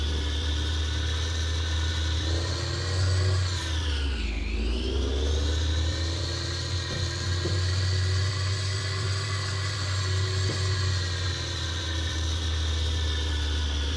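Modded truck engine in American Truck Simulator running at low RPM, a steady deep drone with layered mid harmonics and a brief pitch dip and recovery partway through, continuous and fairly loud with no talking.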